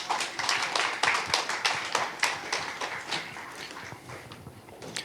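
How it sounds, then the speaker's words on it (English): A summit audience claps in a brisk burst of applause that gradually thins and fades over a few seconds. "Give him a big round of applause."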